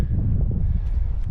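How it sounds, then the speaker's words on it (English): Wind gusts across an open climbing crag with oak trees, a steady low rumbling roar buffeting the microphone throughout, loud and unbroken with faint rustling on top. "it is windy"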